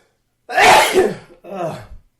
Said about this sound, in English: Oh, hold on. I'm going to sneeze.